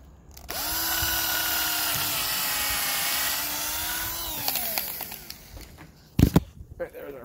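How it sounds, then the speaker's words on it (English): A power drill bores a pilot hole through the cap of a laminated RV sidewall, a loud whining spin held for about four seconds that then winds down, followed by a few sharp knocks and handling clatter. "So I'll just drill that out, a new hole, and put one last screw in there."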